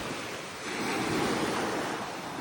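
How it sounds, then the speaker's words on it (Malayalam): Waves on a calm sea wash in with a steady, broad hiss, swelling slightly midway, heard from a fishing boat during monsoon fishing with some wind noise. "കടൽ ശാന്തമായ കടൽ"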